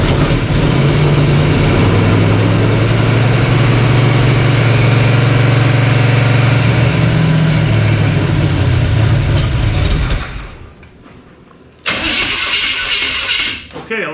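A car engine with a suspected bad distributor runs loudly and steadily after the ignition is switched back on, then cuts out abruptly around ten seconds in, goes quiet, and briefly roars back before the end.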